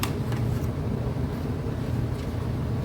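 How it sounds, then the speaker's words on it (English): A home furnace running in the background, a steady low rumbling drone, constant and unbroken, like machinery at a distance. "If you can hear noise in the background, it's my furnace."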